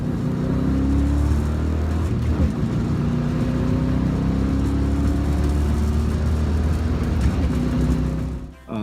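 A V8-swapped BMW M3 launches hard at a drag strip, its engine a loud, droning roar with rising tones as it pulls, holding steady before cutting off abruptly at the end.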